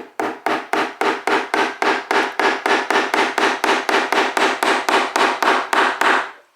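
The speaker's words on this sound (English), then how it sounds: "I usually hit them with more velocity and kind of let the hammer do the work" A hammer drives decorative upholstery pins into faux red leather covering a desk, with about nineteen sharp, evenly spaced blows in a fast, steady rhythm, loud and close, no talking.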